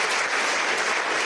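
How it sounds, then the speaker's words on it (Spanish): Audience applause at a government meeting with Venezuela's Misión Parto Humanizado, a dense, steady burst of clapping heard alone and close. "un gran aplauso al Guárico"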